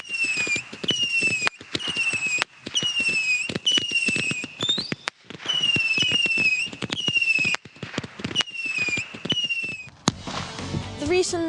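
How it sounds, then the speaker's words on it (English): Fireworks crackle and bang in dense repeated volleys, with sharp whistling rising tones between pops, building to a thick crackling burst at the end. "I like fireworks is because the noises, the crackles, the lights"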